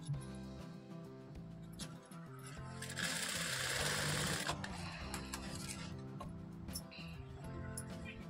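Domestic sewing machine stitching pleats into a puffed blouse sleeve, a steady mechanical whirr running throughout with music playing over it and a louder, busier stretch in the middle.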